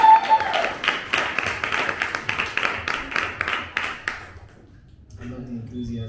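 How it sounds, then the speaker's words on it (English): Audience applause at a poetry event: a lively burst of crowd clapping with distinct individual claps for about four seconds, then dying away into quiet room murmur. "Can y'all give another round of applause for Miss Ken, please?"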